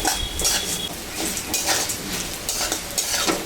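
Ash gourd lightly frying in a pan, a steady close sizzle with soft scraping and clinks of a spatula stirring against the metal.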